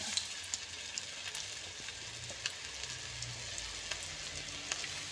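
Chicken tempura pieces frying in hot oil over a medium-low flame, a steady broadband crackle and hiss with scattered sharp pops, close and continuous with no voices.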